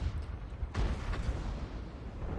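An M53/M55 self-propelled gun in World of Tanks fires a single heavy, booming shot that rolls out into a low rumble over a constant engine drone.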